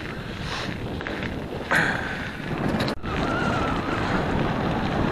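Strong wind buffeting a microphone during a mountain bike ride, a continuous loud roaring rush with gusts swelling and one sharp dropout, no voices.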